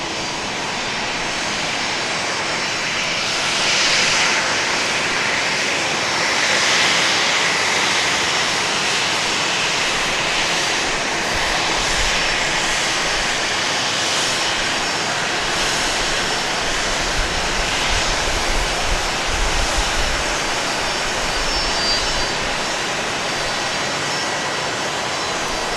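A striped business jet departs Dallas Love Field with a sustained, loud engine roar that swells and eases slightly over its length, no voices present.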